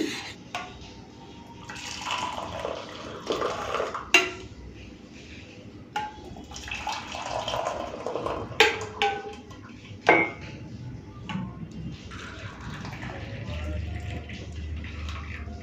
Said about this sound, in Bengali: চলো চা হয়ে গেছে ছেঁকে নিই